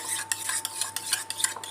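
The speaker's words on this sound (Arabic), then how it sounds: "وهبدا اخلط معايا بسم الله الخليط كده" A mustard sauce mixture for sandwiches being stirred in a bowl, giving quick rhythmic clinks and scrapes of a utensil, close and fairly quiet over a short stretch.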